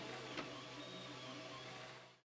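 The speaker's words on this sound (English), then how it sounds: "This is a 3D printer working on a home improvement project." A 3D printer working on a replacement grill knob whirs and hums steadily up close, its motors buzzing continuously before the sound cuts off abruptly.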